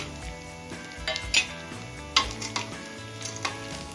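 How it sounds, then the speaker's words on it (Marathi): Turmeric and fried peanuts are stirred through in a pan for a puffed-rice sushila breakfast dish, giving soft sizzling under repeated spoon scrapes and light clinks against the metal, close by with no voices. "हळद पण मिक्स करून घ्यायची त्यानंतर तळून घेतलेले शेंगदाणे ऍड करायचे"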